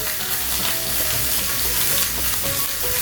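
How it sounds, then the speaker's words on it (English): Food sizzles and fries steadily in a hot pan, a loud continuous crackling hiss up close, with no one speaking. "we're just gonna let it sizzle for a second, or maybe like a minute or two"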